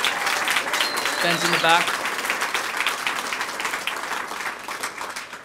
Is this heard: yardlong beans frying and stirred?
no